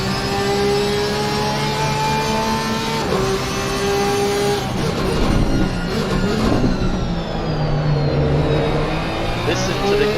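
GT3 race car at Zolder circuit downshifting hard through its gearbox, engine note stepping down in a rapid sequence of loud, close blips and revs, with a race commentator talking over it.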